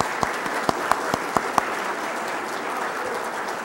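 An audience at a talk on the IBM ACS supercomputer applauds steadily for organizer Dr. Mark Smotherman of Clemson, a dense, even wash of clapping with a few louder individual claps standing out early on.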